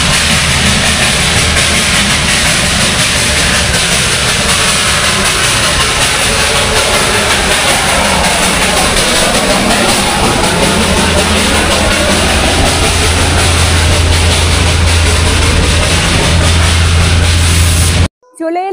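The Darjeeling toy train's engine idling beside a station platform, a loud, steady mechanical rumble and hiss that holds throughout before cutting off abruptly at the end.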